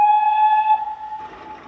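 A train engine's steam whistle gives one long, loud, steady harmonic blast close by, then cuts off and leaves a fainter rumbling tail.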